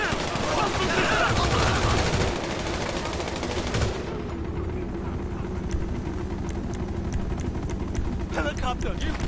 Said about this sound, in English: Helicopter! If you don't bring it down, we're dead!